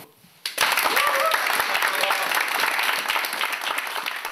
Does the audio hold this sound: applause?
yes